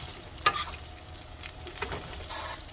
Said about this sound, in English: Let's stir this around.